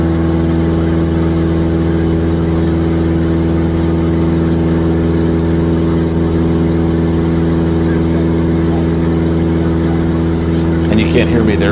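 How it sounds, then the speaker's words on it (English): A small airplane engine runs at full power during climb-out, a loud, steady drone with strong even harmonics filling the cabin, barely changing throughout. "you can't hear me there over the noise of the engine"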